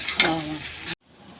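A utensil stirs khārkol leaf paste around a hot wok, a close sizzling scrape that runs for under a second and then cuts to near silence.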